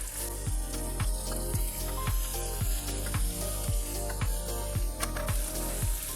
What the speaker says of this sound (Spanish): en mi sartén ya caliente voy a agregar 2 cucharaditas de aceite de coco y voy a poner mis camarones